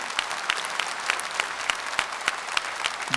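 An audience claps steadily in a hall during a talk by a senior doctor, with sharp, fairly even hand claps over a soft crowd wash, moderately loud and with no voices.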